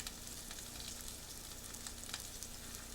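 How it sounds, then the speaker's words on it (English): Chicken breast sears in hot oil in a pan, giving a steady, quiet hiss of frying with small crackles scattered throughout and no voices. "That's the searing. That's the natural caramelization that's happening right now"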